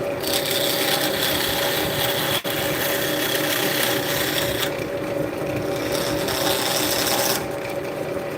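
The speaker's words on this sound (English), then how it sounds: "Gonna go with our cove scraper." A cove scraper cuts into a big wooden bowl spinning on a lathe, giving a steady, close rasping scrape that runs continuously with a brief break partway through.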